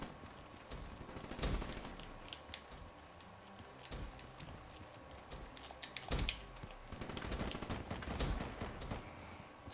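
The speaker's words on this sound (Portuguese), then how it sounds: "tem alguém atirando em mim" Gunfire in Call of Duty: Black Ops 3, with scattered shots and short bursts at moderate distance and no talk over them.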